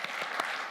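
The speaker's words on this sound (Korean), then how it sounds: "여러분 우리도 박수 쳤으면 좋겠어요." Brief burst of applause from a church congregation during a Sunday worship service, a few distinct claps over a steady wash of hand-clapping, moderately quiet and without voices.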